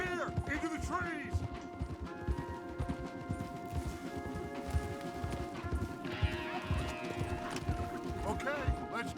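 Horses' hooves clip-clop steadily through a Red Dead Redemption 2 ride, with a whinny early on, under game music and character dialogue.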